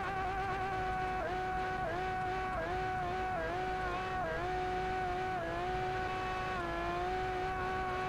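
A 7000-horsepower car launches down a drag strip in the BeamNG.drive driving game, its engine holding a loud, steady high-revving tone that rises and dips slightly through gear changes, continuous for several seconds with no talking.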